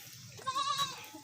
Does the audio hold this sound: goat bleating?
yes